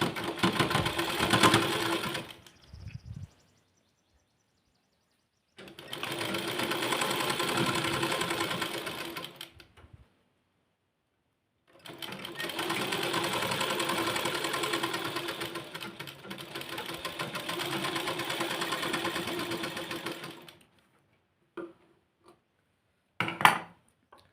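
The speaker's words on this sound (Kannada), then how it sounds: "ಇವಾಗ ಒಂದು 1/4 ಇಂಚ್ ಆಗುವಷ್ಟು ಸ್ಟಿಚ್ನ ಹಾಕ್ತೀನಿ" A sewing machine stitching a hook strip runs in three steady whirring bursts of a few seconds each, separated by short pauses, and ends in a couple of faint clicks.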